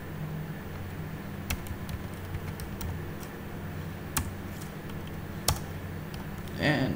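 Scattered keystrokes on a computer keyboard while React Native test code is typed: a few separate, fairly crisp clicks spaced seconds apart over a steady low background hum.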